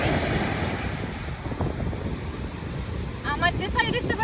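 Wind buffets the microphone at Perissa Beach on Santorini, a steady broadband rush with surf-like wash, and a voice briefly speaks near the end.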